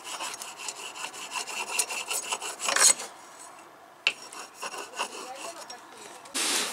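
A small child saws wood by hand at a country dacha, the blade rasping in a quick, uneven series of strokes, nearby and moderately loud, with a short pause and a few faint scrapes.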